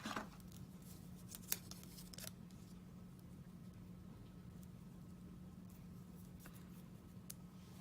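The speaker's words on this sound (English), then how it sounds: "Just cut those ends down a little." Scissors trim paper ends while making a handmade coffee café greeting card, with a few sharp, quiet snips near the start over a low, steady room hum.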